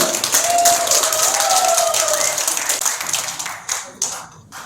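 Audience at a small community concert run by the Sinsa-dong residents' committee claps loudly and steadily, then the applause thins into a few scattered claps and fades out.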